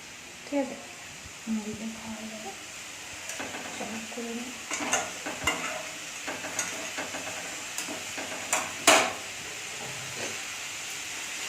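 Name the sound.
curry being reheated in a pan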